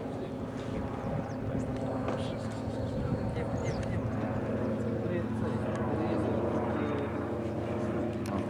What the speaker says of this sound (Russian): можно познімати самолет. Який літає.